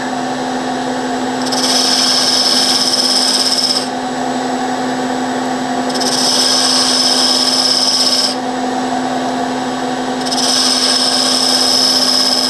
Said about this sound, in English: this is a 3/32 inch beading tool, which is the one that I prefer